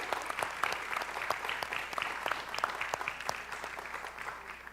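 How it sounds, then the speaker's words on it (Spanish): An audience at a regional authors' literary prize ceremony claps, a fairly quiet but steady patter of many hands with distinct individual claps throughout, no voices over it. "Le damos un aplauso."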